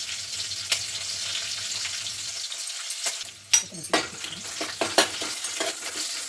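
Shahi jeera goes into sizzling biryani masala in a pan, a steady close frying hiss broken by several sharp crackles and stirring clatters, no speech.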